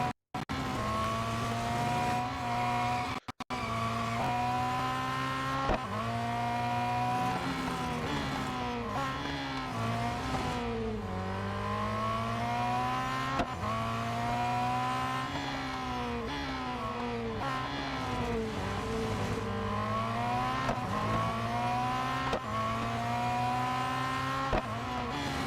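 Race car engines in the Real Racing 3 video game, a sustained close whine rising and falling through gear changes and repeated revving, continuous and loud with no talk.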